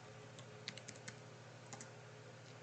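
Faint, quick keystrokes on a computer keyboard, a short scattered run of light clicks during CAD software work in a quiet room.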